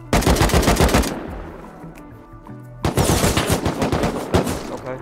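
Two loud bursts of rapid automatic gunfire from the video game Rust, separated by a brief quieter lull, with no talking.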